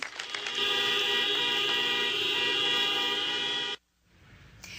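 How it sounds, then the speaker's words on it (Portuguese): Car horns blare together in a long, steady chorus of honking as a tribute in Santa Maria, loud and continuous for several seconds before cutting off abruptly into quiet street ambience. "Foram 15 minutos de aplausos, buzinas e o toque dos sinos nas igrejas"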